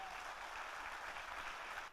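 A dense, steady wash of audience applause fills a hall at a business seminar, faint and even throughout before tapering off at the very end.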